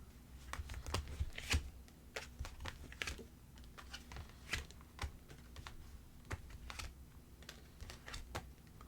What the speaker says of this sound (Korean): 초과 카드 한번 같이 뽑아볼게요